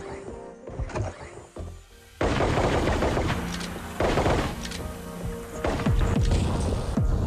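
Gunfire from the VR shooter Sweet Surrender on Meta Quest 2: loud, close bursts of rapid shots that come in repeated volleys, with brief pauses between them.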